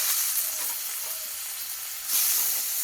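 Ground spice paste with turmeric, salt and tomato frying in a pan: a steady close hiss of sizzling oil with faint stirring scrapes, growing louder near the end, no speech.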